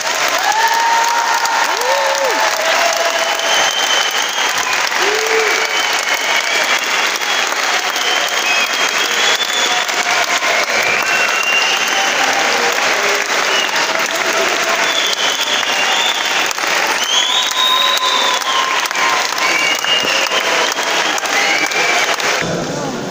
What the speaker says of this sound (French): Et je crois qu'il faut les applaudir très fort.